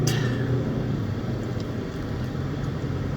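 Saturday road traffic on the expressway toward Manila and Makati near the Carmona exit, a steady broadband rumble of engines and tires heard from inside a moving vehicle, continuous and moderately loud with no talk.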